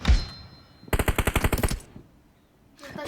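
A fast burst of automatic gunfire from the PUBG Mobile video game rattles out as about ten rapid, evenly spaced shots, loud and close, with quiet game ambience before and after.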